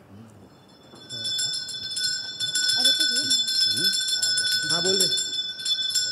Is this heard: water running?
no